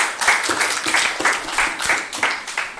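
An audience at a medical education workshop claps together, a dense, loud, rhythmic burst of applause lasting a few seconds, close and without speech over it.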